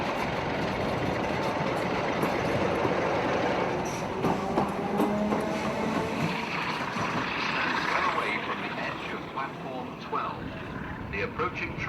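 A Class 47 diesel locomotive in XP64 livery from Riviera Trains rumbles through the Windsor Line platforms at Clapham Junction hauling a unit, a broad, steady engine roar with wheel noise, loud and close throughout.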